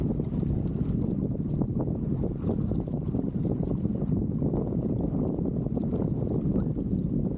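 Wind rushes steadily past a sailboat running downwind under a double-reefed mainsail on a lake, with constant low water wash against the hull and no voices.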